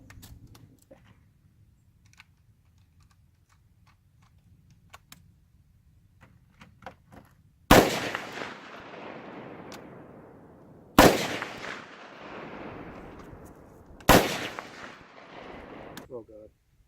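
Three loud, sharp gunshots fired at targets crack in close succession a few seconds apart, each trailing off in a long decaying echo after a quiet stretch of faint rustling.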